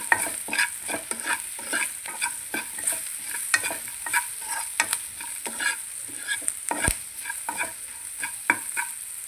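Radish curry frying in oil with salt and chilli, a steady close sizzle broken by frequent scraping stirs of a spoon against the pan, with no talk.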